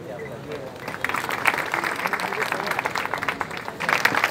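Scattered applause from attendees at an urban and rural town security committee meeting, a thin patter that builds after the first second and stays steady, with a voice talking over it.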